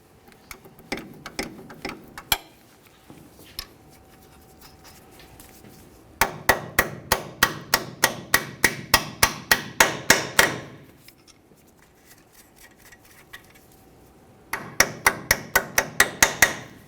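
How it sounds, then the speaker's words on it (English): Hammer and punch driving out a control arm mounting bolt on a 1998-2011 Ford Ranger: three bursts of rapid, sharp metallic taps, close and crisp, separated by short pauses. "Just tap this out of here. You might have to use a hammer and punch."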